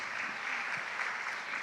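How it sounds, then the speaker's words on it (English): A crowd at a national robotics championship claps steadily for the judges, a dense, even patter of applause filling the short stretch without pause. "And our judges, please clap for our judges."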